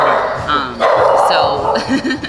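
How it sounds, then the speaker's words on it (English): A pet dog close by gives a few short barks and yips over about two seconds, mixed with people talking indoors. "Wow, you have a doggy here, a fan of yours."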